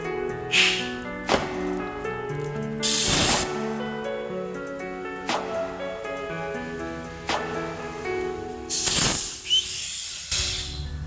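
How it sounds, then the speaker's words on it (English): Compressed air fed into an engine cylinder hisses out through a leak in short, loud bursts separated by quieter gaps, close by and with no voices over it. "now we're going to put compressed air in this cylinder and see where that leak is going"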